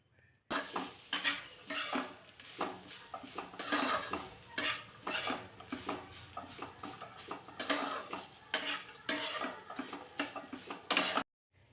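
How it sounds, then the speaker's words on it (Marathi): A utensil stirs grated coconut roasting in ghee in a kadhai, giving repeated scraping and clinking strokes against the pan in an irregular rhythm, close and clear with a faint sizzle beneath and no talk. "हे सुद्धा थोडा वेळ या तुपावरती चांगलं भाजून घ्यायचे"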